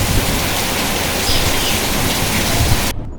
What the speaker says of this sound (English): See, there's a fair old downpour.